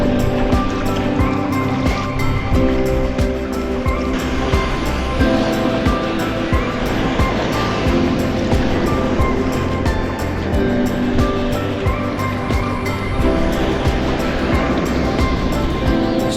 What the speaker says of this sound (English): Still a little bit of the ebb stream making its presence felt, with breaks on the back of Scarcars and the bush reefs